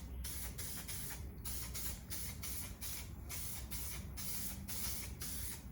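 A spray gun applying a 2K primer coat over a car body repair, giving a continuous close hiss broken by short pulsing bursts as the trigger is worked, quiet overall with no talk.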